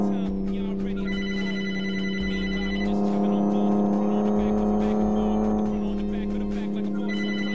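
A phone rings with an incoming call, repeated bursts of a clear electronic ringtone sounding over the steady low drone of a Kenworth truck's Detroit Diesel engine in a driving game.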